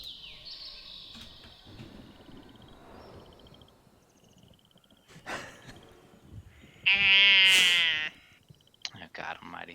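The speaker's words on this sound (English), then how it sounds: "The goat somewhere just screamed." A goat screams nearby, one loud, harsh, person-like bleat lasting about a second that rises sharply above a noisy background with scattered voices and clatter.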